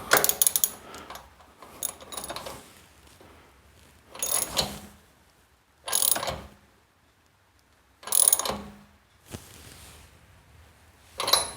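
Ratchet wrench tightening a thread repair insert into a stripped spark plug hole, heard as several separate bursts of quick metallic clicking with short pauses between them, close and clear in a quiet room.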